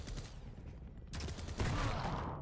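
Weapon fire in the arena shooter Quake Champions: loud, dense bursts of rapid gunfire and blasts, with a sharp new barrage midway and a heavier rumbling discharge near the end.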